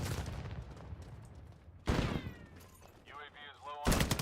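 Gunfire rings out in the Modern Warfare 4 closed beta video game, sharp loud shots in quick bursts with a sudden heavy blast, under brief game chatter and radio voices.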